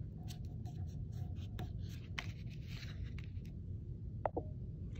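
Paper is creased and folded by hand into an origami heart, giving close, soft rustles and short crisp scraping strokes over a quiet background.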